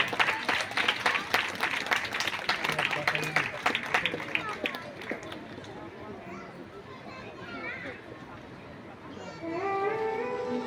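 An audience applauds to welcome a speaker on stage at an event by a national association for the blind, clapping strong at first then thinning out, with children's voices and chatter continuing underneath and a voice coming in near the end.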